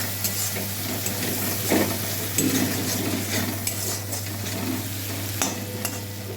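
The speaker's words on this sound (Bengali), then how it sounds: "আমি এর মধ্যে সামান্য একটু জল দিয়ে মশলাটা দু মিনিটের মতো কিছুক্ষণ কষিয়ে নেবো" Masala with a little water fries and sizzles in a pan for palak paneer, a steady sizzle under repeated scraping and stirring strokes of a spoon against the pan.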